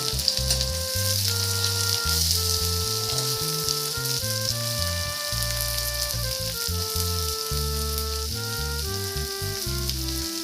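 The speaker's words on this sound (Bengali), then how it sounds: "সবগুলো দেওয়া হয়ে গেছে। এবার একটু হালকা করে একটু ভেজে নেব।" Chopped chili and onion fry in a pan for masala Maggi, producing a continuous close sizzle alongside prominent steady tonal music, with no speech.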